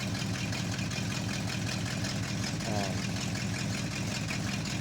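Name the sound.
1971 Chevrolet K10 truck engine running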